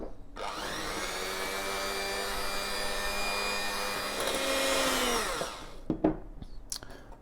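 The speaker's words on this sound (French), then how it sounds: "Et on mélange bien le sucre et l'œuf." An electric mixer beats sugar and an egg together with a steady whirring motor hum. It runs for about five seconds and swells slightly before cutting off, followed by a few light clinks.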